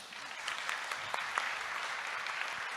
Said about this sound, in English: I just invite you to give applause for all the panelists for their discussion